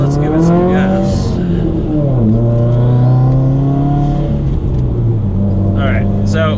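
A 2016 Subaru WRX with a Stage 2 tune accelerating, engine note rising steadily in pitch, dipping at a shift, then climbing again, loud and close inside the cabin with a voice talking over it.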